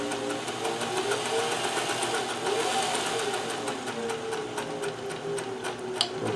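Singer sewing machine stitching with a fagoter attachment, a fast steady mechanical chatter of needle strokes at an even rhythm, close and continuous without speech.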